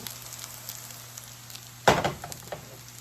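Salmon croquettes fry and brown in a pan with a quiet background hum, then a sharp burst of sizzling and spattering flares up briefly before settling back to a low crackle.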